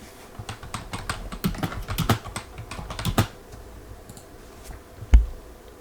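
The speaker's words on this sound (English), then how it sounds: "Let me put this down for a little bit so I can type." Rapid clicking keystrokes on a computer keyboard, a close burst of typing for about three seconds that slows to a few scattered taps and ends with one louder thump; no talking.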